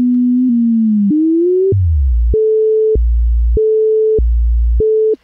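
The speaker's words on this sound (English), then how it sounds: "I would say this is almost certainly an MS-20 synthesizer making the sound" Synthesizer tone, likely a Korg MS-20, with its pitch chopped by a square-wave LFO into a steady on-off alternation between a high note and a low buzzy note, after an opening that glides unevenly; loud and alone, with no talking.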